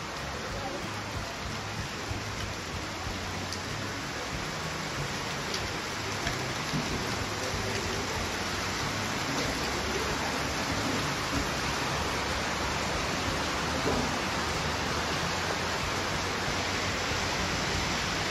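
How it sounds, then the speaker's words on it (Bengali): Heavy rain pouring in the mountains near Punakha, Bhutan, a dense, steady, loud roar of falling water that holds unchanged throughout with no speech. "বেশ জোরে বৃষ্টিটা এসে গেছে।"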